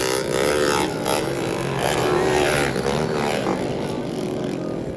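Underbone motorcycles racing in an open-class motocross heat at a local fair, engines revving loud and close in a continuous, shifting whine with the pitch rising and falling.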